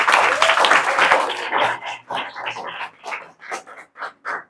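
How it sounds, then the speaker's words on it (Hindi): Students in a class break into applause, dense clapping at first that thins into scattered, separate claps toward the end, close and fairly loud. "जोरदार ताली बजनी चाहिए"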